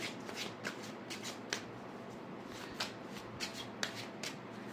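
Tarot cards being shuffled and drawn for a relationship reading, with soft riffling and a series of sharp card snaps and flicks spread through the clip over a faint steady background hiss, no voices.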